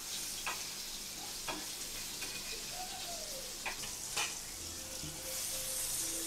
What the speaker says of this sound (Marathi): आता हे का परतून घेऊया दुसऱ्या बाजून